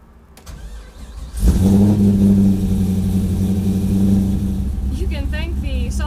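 A track car with a welded differential and solid engine mounts starts on an incline: a brief cranking, then the engine catches with a loud burst and settles into a steady, rough idle, with a voice speaking near the end.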